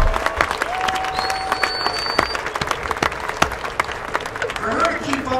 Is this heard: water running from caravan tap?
no